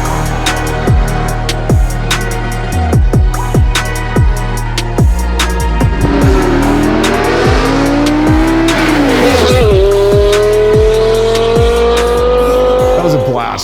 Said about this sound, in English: you gotta love that screaming V10